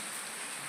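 Heavy rain pours down in a village, a brief, dense and even hiss of drops with no voices.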